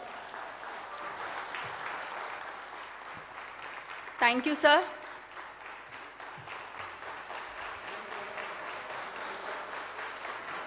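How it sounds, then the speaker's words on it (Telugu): Applause for a politician rolls on steadily from an audience of Group I and II officers at a training event, continuous clapping with a brief spoken thanks and some cheering breaking through midway. "సార్ ఈ చప్పట్లు ప్రోటోకాల్కి కాదు సార్"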